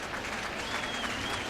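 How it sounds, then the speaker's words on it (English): A baseball stadium crowd at a Nationals–Cardinals game cheers and claps in a steady, dense roar of applause, loud and sustained throughout. "the crowd wants the 3rd out. They're cheering for it right now."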